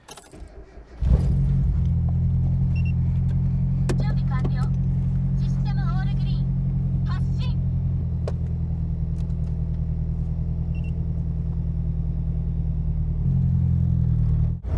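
A Mazda Miata on new coilovers starts up and drives on the street. A steady, loud low engine drone carries on throughout, with keys jingling and small cabin rattles near the start.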